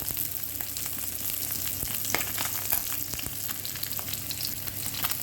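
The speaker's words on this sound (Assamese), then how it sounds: "মোৰ মাছখিনি ভাজা হৈ গৈছে আৰু এইখিনি আছে, এইখিনিও ভাজি ল'ম।" Fish frying in oil in a pan while cooking at home, a steady loud sizzle with crackling pops and occasional stirring clatter throughout, no talking.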